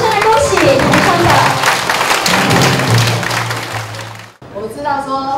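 Applause from a crowd at a Changhua County Council DPP caucus leadership handover, dense clapping mixed with chatter that fades out, followed by a short burst of speech.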